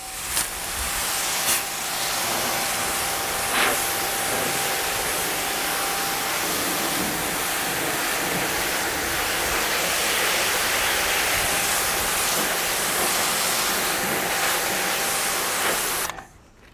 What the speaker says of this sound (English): The machine's on. We're going to spray.